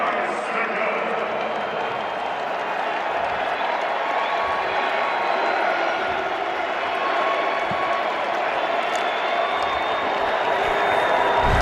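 Football stadium crowd at a Vikings vs Bears NFL game, a broad, sustained roar of cheering and noise from a large crowd, steady and loud throughout with some voices mixed in.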